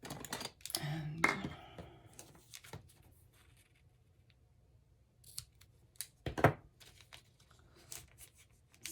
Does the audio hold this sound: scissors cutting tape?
yes